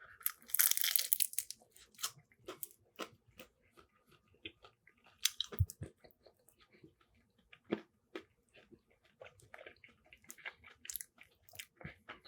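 Chewing and biting into a crab roll with spicy mayo-style sauce and cucumber, giving close, irregular wet crunches and soft mastication bursts spread across the stretch, with a louder crinkly crunch near the start.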